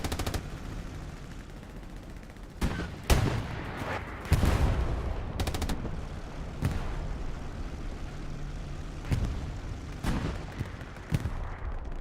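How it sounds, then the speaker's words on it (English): Anti-tank guns firing on a Panzer IV in the World War II shooter Hell Let Loose, with a Panther and T-70 tanks nearby: scattered heavy cannon shots boom at irregular intervals over a low rumbling battlefield. "AT guns hitting that other P4"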